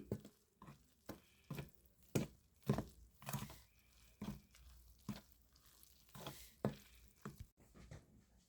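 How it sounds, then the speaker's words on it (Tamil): Batter for raw-banana bajji being stirred with water in a bowl, a series of soft, wet, irregular slaps and squelches repeating every half second or so, close by and with no talk. "இந்தமாரி தண்ணி ஊற்றி கொஞ்சம் கொஞ்சமாக கரைக்கணும்"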